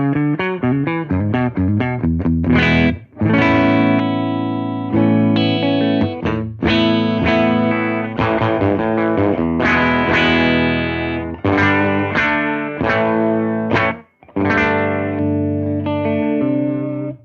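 Gibson 335 electric guitar with circa 1960–61 PAF humbuckers through a tube amp plugin, playing loud overdriven chords and riffs with brief pauses, alone with no talking.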